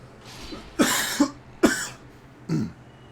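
A man coughs several times in close succession, sharp harsh bursts with short gaps and a final throat-clearing cough, close to the microphone in an otherwise quiet room.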